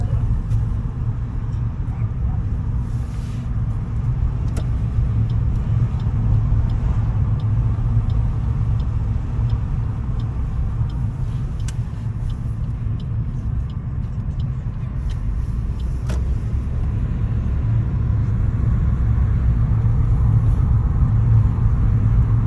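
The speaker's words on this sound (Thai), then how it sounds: "รถเสียงดังอยู่บ่วะ" A loud car rumbles continuously at a stadium during a school running competition, a steady low drone that fills the whole stretch, with faint voices underneath.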